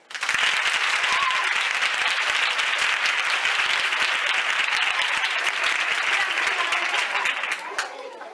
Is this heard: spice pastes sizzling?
no